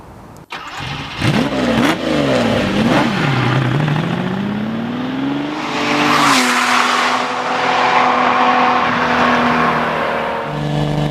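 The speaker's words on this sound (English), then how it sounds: "I'm driving a 1970 Lamborghini Miura S." A 1970 Lamborghini Miura S engine cranks and fires up, then revs several times in sharp bursts before settling into a loud, rising roar that holds steady at a high idle.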